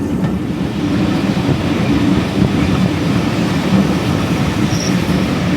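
Steam locomotive 080 on the Esk Valley Line, heard as a steady low rumble of a passing train with rolling wheel noise, fairly close and continuous, with no talking.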